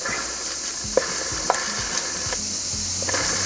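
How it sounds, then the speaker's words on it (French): A low rolling, gritty mechanical rattle with scattered light clicks and ticks from a failing clutch roller on a Piaggio MP3 500 scooter with a disintegrated clutch pulley, steady and close, with no talking. "Petit bruit de roulement de galet,"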